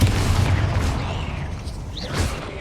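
Confringo blasting spell in the Hogwarts Legacy video game, a loud booming burst with a rumbling, whooshing tail and a rising magical whine, layered over dense game sounds.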